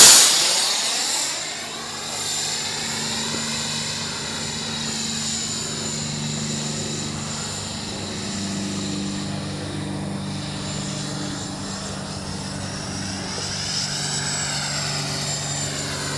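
An Aerojet 64mm RC jet roars in a steady, loud whine as it flies in a hard dive. The pitch shifts and swells as the plane passes, with no talking.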